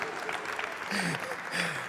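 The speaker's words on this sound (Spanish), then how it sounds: "un aplauso para Pitu, por favor" A school awards ceremony for young entrepreneurs fills with a dense wash of audience applause for a person named Pitu, steady clapping with a few voices calling out over it.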